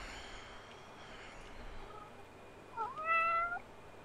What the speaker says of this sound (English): My cat's come to watch. Oh no. And be noisy.